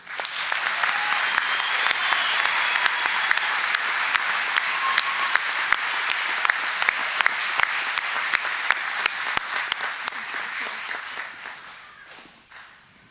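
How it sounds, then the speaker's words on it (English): Audience applause for graduates at the 2023 Muscatine Community College graduation ceremony, a dense, steady wash of clapping from a large crowd that holds for about eleven seconds before tapering off at the end. "Let's give one final applause to our graduates"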